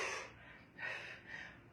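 Sharp breathy exhales during a Russian twist exercise with weights, three close puffs in an uneven rhythm, with nothing else audible.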